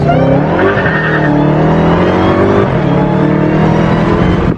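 A Dodge Charger Hellcat SRT accelerates hard in first gear, its supercharged engine roaring loud and close with a rising whine and brief tire squeal.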